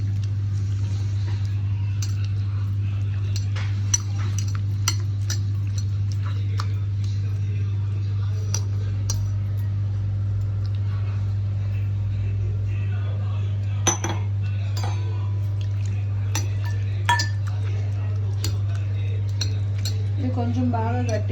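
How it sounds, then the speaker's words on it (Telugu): A spoon clinks against a bowl as tamarind juice is stirred into the other ingredients for a raw brinjal chutney, with scattered soft metallic taps over a steady low hum and no talking. "ఇప్పుడు ఇవన్నీ బాగా మిక్స్ చేసుకుందాం"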